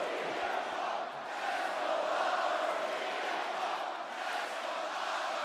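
A wrestling arena crowd at a WWE Raw event in Belfast roars steadily with dueling chants, a dense, continuous wall of voices that swells slightly midway and never drops out.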